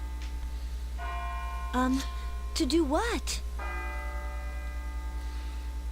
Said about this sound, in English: For doom the bell tolls.